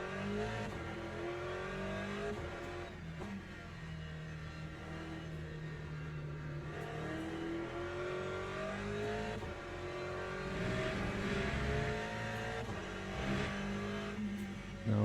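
A race car in a sim racing game, its engine droning and revving through gear changes, rising and falling pitch, continuous and fairly prominent, with occasional tyre noise and no talk.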